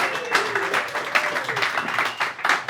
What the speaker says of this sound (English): Ripple of applause, please, from those in attendance.